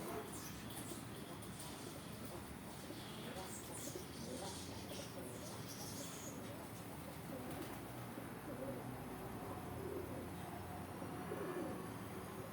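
Pigeons coo softly and steadily while pecking at bird seed, a continuous busy outdoor murmur that holds at an even level throughout.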